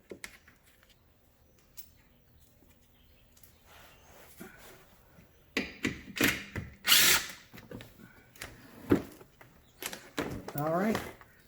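Power tool fitted with a 10 mm socket spins bolts out on a Maserati GranTurismo during a service. It starts faint and grows into several loud, close, short bursts, with talk in between.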